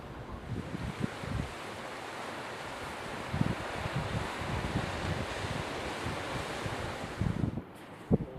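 Ocean waves at the foot of seaside cliffs on the Igidae coastal walk in Busan, a steady roar of surf with periodic heavier crashes, mixed with wind buffeting the microphone throughout.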